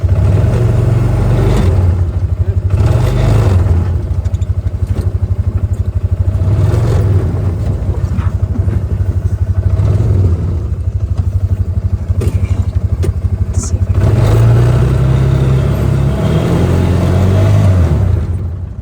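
A side-by-side UTV drives on ice in four-wheel drive, its engine droning steadily and loudly up close with rising and falling revs and some rattling throughout.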